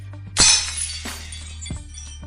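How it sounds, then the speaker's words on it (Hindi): Glass shatters in one sharp, loud crash, followed by a second fainter clink and a later softer impact, against a low steady hum in the background. "क्या ये आवाज गिलास टूटने की थी?"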